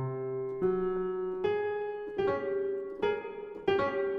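Piano chords played through a plate reverb effect, several sustained notes struck in sequence with a lingering smooth tail, clear and moderately quiet with no talking.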